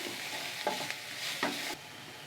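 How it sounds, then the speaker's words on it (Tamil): Green chillies, tamarind and salt sautéed in a pan for mint and coriander chutney, a soft steady sizzle with two or three scraping stirs before it suddenly quiets. "உப்பையும் சேர்த்து நல்லா வதக்கிக்கலாம்."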